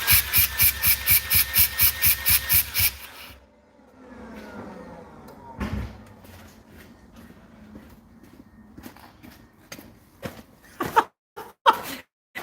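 Mazda RX-8 rotary engine with its exhaust undone at the catalytic converter cranks in a steady rhythmic chug for a few seconds, goes quiet, then fires with one sharp, loud bang followed by scattered clicks and knocks.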